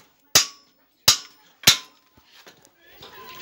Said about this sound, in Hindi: हथौड़ा मारेंगे साइकिल को